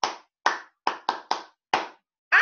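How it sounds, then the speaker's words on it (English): Six separate hand claps in a slow, uneven rhythm, each sharp and close with a short decay, followed by the start of a louder sound at the very end, during a children's counting lesson. "Give yourself a big clap."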